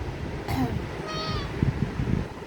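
A cat named Elsa gives a couple of short meows close by, with faint talk in the background.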